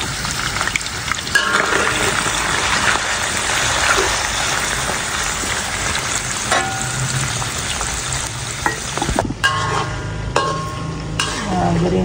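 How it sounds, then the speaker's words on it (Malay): Sacrificial meat sizzles and crackles steadily in hot oil, close and loud, with occasional scraping and stirring sounds. "Minyak dah panas, nak goreng daging dulu."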